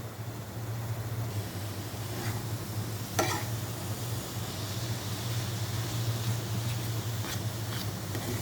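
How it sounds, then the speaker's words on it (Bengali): Mashed pointed gourd (potol) fries crisply in a pan with a steady close sizzle, a low constant hum underneath and a couple of brief sharp clinks of a utensil. "একটু কড়া করে ভাজি করব।"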